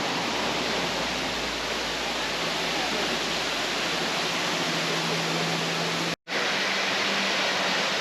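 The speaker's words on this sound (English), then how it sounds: "We're now at Horsetail Falls of the Columbia River Gorge" Horsetail Falls on Horsetail Creek in the Columbia River Gorge pours over a columnar basalt cliff in a steady, dense roar of falling water, close and loud throughout, with a brief dropout near the end.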